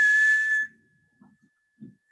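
A person whistles a single steady, clear tone held for about half a second, loud and close, followed by faint low rustling and quiet handling noises.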